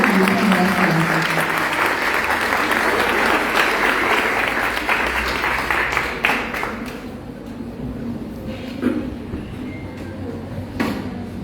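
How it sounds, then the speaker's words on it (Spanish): An audience applauds a professor and a violinist at a book presentation, the clapping loud and dense at first, then thinning out into scattered claps and fading toward the end. "Un aplauso para ellos."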